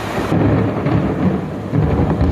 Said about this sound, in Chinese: 闪电伴随着轰隆隆的雷声不断